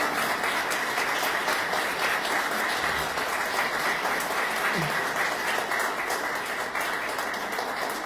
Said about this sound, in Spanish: creo que se merecen un gran aplauso